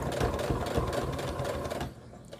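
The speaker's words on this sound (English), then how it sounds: "put my foot back down, and I sew over that" A sewing machine stitches across the elastic of a fabric face mask, a steady close mechanical whir that runs continuously, then stops near the end.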